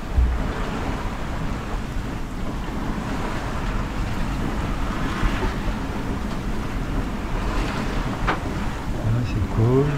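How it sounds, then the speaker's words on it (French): Waves wash around a sailing boat off Saint-Vincent, a steady broadband rush of water and wind with a low rumble throughout, loud and close, the sea somewhat calmer in the shelter of the island. "Il y a moins de vagues."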